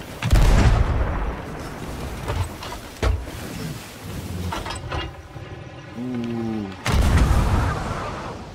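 Ship cannons in the pirate video game Sea of Thieves fire in several booming blasts, loud and close, with creaking wood and sea noise in between.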